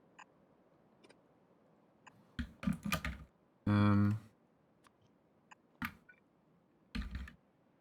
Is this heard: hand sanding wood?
no